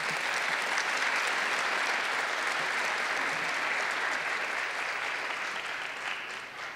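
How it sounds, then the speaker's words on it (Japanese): Sustained, steady applause from a seated audience honoring guests at a coming-of-age ceremony in a hall, dense and even throughout before easing slightly near the end. "皆様、大きな拍手をお願いいたします"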